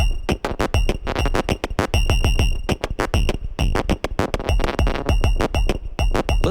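Drum kit synthesized on a modular synth, a dense, fast pattern of punchy electronic kicks, clicky hats and noisy hits with a ringing metallic tone, loud and continuous.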